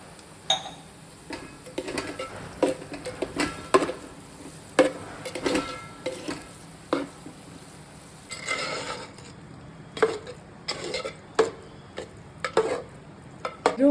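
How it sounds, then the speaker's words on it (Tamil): A spoon works milk and curd into cooked rice in a vessel, a steady series of soft wet squelches and light scrapes at a slow mixing rhythm, close and moderately quiet. "பால் ஊற்றி நல்லா கலந்து விட்டுட்டேங்க"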